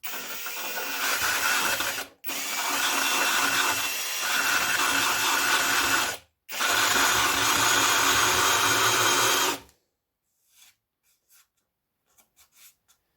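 A hole saw in a drill enlarges an existing 32mm hole in a scrap panel without a pilot, whining and rasping in three loud bursts split by short pauses, then falling silent apart from a few faint clicks.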